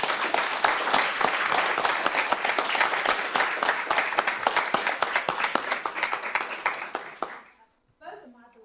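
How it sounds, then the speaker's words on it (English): Sustained applause from a school board meeting audience, dense steady clapping for about seven seconds that thins out and stops, followed by a brief voice near the end. "Let's give them a round of applause."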